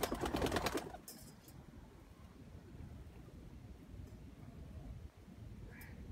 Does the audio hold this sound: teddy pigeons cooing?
yes